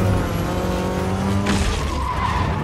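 A car in the game Spider-Man 2 drives with a steady engine drone and skids, letting out a squealing tire slide midway that fades as the motor keeps running.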